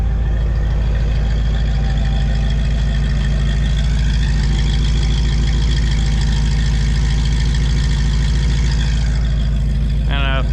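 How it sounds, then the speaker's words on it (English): A 1954 Chevy cabover truck engine idles after a carburetor swap, its exhaust loud and close with a constant throbbing rumble held through the whole stretch. "I'll give you a shot of the exhaust."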